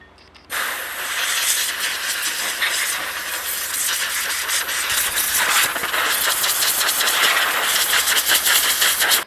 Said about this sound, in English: I'm just going to use compressed air from air compressor and blow some of this out